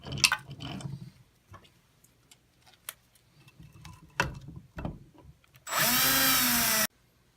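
A power screwdriver whirs for about a second as a screw is driven in to reinstall a driver in an MHL/ML fixture, preceded by scattered clicks and handling knocks.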